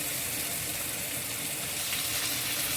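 Cabbage goes into a hot wok with jumbo shrimp, garlic, onion and butter, giving a loud, steady rushing sizzle that fills the whole moment without pause.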